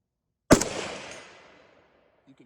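A single AK-47 rifle shot cracks loudly and is followed by a decaying ring that trails off over about a second, as from a distant steel plate target at 200 yards.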